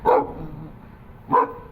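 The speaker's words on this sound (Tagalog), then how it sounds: "Panay po sa tahol ang tahol" A dog barks twice, short single barks about a second apart, fairly close with quiet between them.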